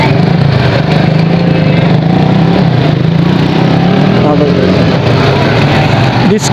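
Motorbike engine droning steadily while riding through busy city streets in Arifwala, loud and close with a constant low hum and wind rush throughout, with no speech heard.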